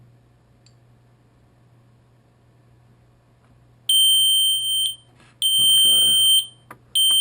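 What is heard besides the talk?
Audi instrument cluster warning buzzer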